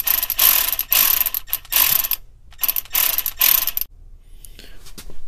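Ratchet clicking in quick bursts while snugging bolts on a 1995 Honda Civic speed sensor, close and loud, several short strokes with brief gaps, then quieter fiddling at the end.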